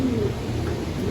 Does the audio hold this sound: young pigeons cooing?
yes